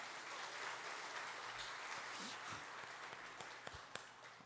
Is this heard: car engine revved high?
no